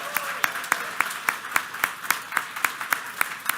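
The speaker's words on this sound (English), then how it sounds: "Let's give them a round of applause for that." Clapping at a township council meeting in honor of a championship marching band, heard as a steady, evenly spaced run of sharp claps at moderate loudness with no voices over it.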